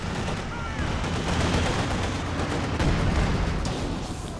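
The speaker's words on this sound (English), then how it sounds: "Let's go for a barrage here, interesting." In the Company of Heroes 2 video game, an artillery barrage fills a battle mix with dense overlapping booms and gunfire crackle, sustained and fairly loud under a faint layer of commentary.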